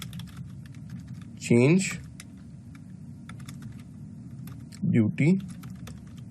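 Code being typed on a computer keyboard while programming a servo motor on a Raspberry Pi, a steady run of light clicking keystrokes under a voice speaking in two short bursts.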